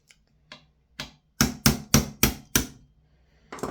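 A small hammer taps a pin out of a Tokyo Marui SLR B15 PDW airsoft gun: three light, spaced taps followed by five louder, evenly paced metallic strikes in quick succession, close up, with one more hit starting at the end.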